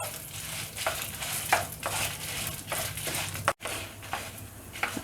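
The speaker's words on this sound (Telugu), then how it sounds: "ఇప్పుడు ఎండుమిరపకాయలు ఒక 20 వేసుకొని ఇవి కూడా కొద్దిగా వేయించుకుందామండి" About twenty dried red chillies sizzle in a hot pan for tamarind-leaf powder, a steady crackling fry broken by several stirring scrapes and a brief pause.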